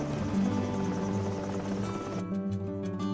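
A helicopter in a 3D animated Hindi story about a giant coconut whirrs with a dense, steady rotor drone that fills the clip at close range, then thins and flutters in its final second.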